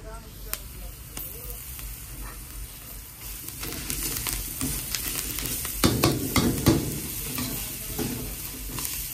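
Ginger, garlic and chili sizzle and get stirred in a hot pan for a vegetable Manchow soup, with soft scraping strokes and a louder burst of frying midway.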